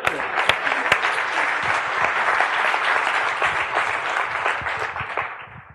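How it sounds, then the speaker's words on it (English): An audience at a tech talk gives a full round of applause, a dense, loud wash of many hands with a few sharp nearby claps, which holds steady for several seconds before tapering off at the end. "Let's applaud his courage."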